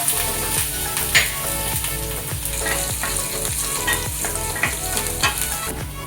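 Green chillies dropped into hot oil in a pan, crackling and sizzling steadily with repeated stirring scrapes of a spoon against the pot, close and busy with no voices.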